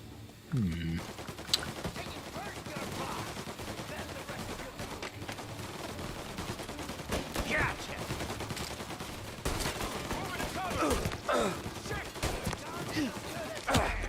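Gunfire in the shooter game Mafia: Definitive Edition, with rapid bursts and single shots crackling throughout, mixed with game voices talking and action noise.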